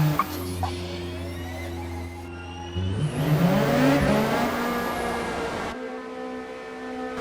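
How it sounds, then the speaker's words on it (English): A Le Mans hypercar in the Forza Motorsport racing game restarts its engine at the end of the pit lane, a steady electric whir giving way to a rising, revving roar that sweeps upward, then settles into a sustained drone. "when they get to the end of the pit lane, the engine fires back up and goes brum"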